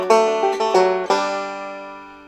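Banjo picking a Crowe-style D lick, a quick run of bright plucked notes in a short rhythmic burst, then a final note left ringing and decaying alone.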